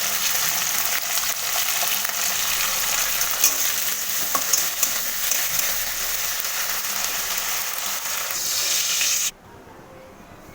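Flat beans sizzle and crackle steadily in hot oil in a pan, a continuous close frying hiss that runs strong for about nine seconds, then cuts off abruptly to near silence.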